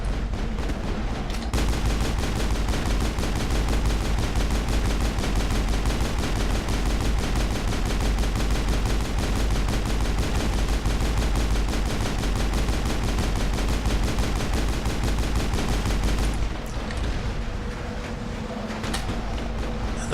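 Sustained gunfire in the video game Mass Effect, a dense, unbroken rattle of automatic shots at loud, constant level that cuts off near the end into quieter background.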